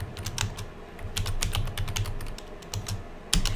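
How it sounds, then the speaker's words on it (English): Fast keystrokes clatter on a computer keyboard, close and fairly quiet, in quick irregular bursts with a heavier thump near the end. "if I could type"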